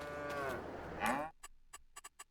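Cows in the farming video game Farming Simulator 22 give two drawn-out moos, the second louder and closer, followed by a series of soft, evenly spaced ticking clicks in near silence.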